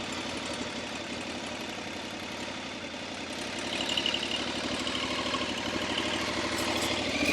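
Motorcycle engine idling in first gear with the clutch feathered, a steady low rumbling chug that swells slightly louder partway through, no voices over it.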